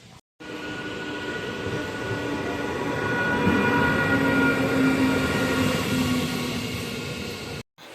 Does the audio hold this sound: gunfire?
no